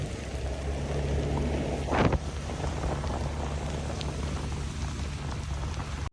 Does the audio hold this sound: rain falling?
yes